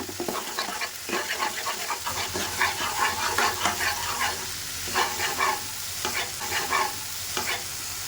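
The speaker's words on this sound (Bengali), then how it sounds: "এই দুটোকে দিয়ে ভালোভাবে পেঁয়াজের সাথে কষিয়ে নেব।" Ginger and garlic paste sautéed with onions in a pan for prawn malaikari, with a loud, close, steady sizzle and rhythmic scraping strokes of a spatula, no voices.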